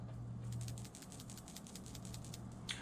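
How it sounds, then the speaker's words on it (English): A fishing jig head with a subtle built-in rattle is shaken, making a quick run of faint, evenly spaced ticking clicks close by with no voices. "this jig head has a subtle rattle"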